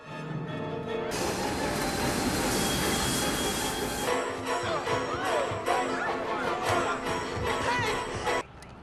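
Subway train in a thriller film scene at a station during a chase: a loud, continuous rumble of railcars with bright metallic wheel squeal, changing character partway through and ending abruptly.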